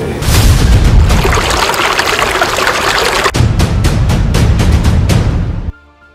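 Dam water gushes loudly through a canal in a dense, roaring rush that runs steadily and close, then breaks into choppy bursts before stopping abruptly.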